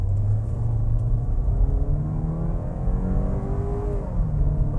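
Inside a Chevrolet Spin Premier pulling away in automatic, a steady low engine drone and road rumble that rises gently in pitch as the car gathers speed, with no talking.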